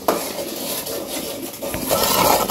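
A spoon scrapes and stirs turmeric, chilli and salt spices in a cooking pot, a steady close rasping and clatter of metal against the pan with no talk.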